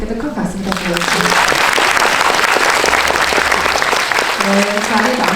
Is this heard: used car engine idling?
no